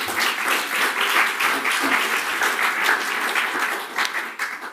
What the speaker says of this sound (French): On applaudit Jésus.